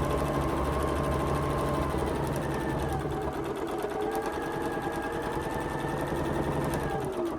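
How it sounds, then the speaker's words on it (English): A sewing machine runs steadily as a sashing strip is stitched onto a T-shirt quilt square, a close, continuous whirring hum with a fast, even mechanical rhythm. "I'm going to sew this sashing strip on the right side of the square at a 1/4 inch seam"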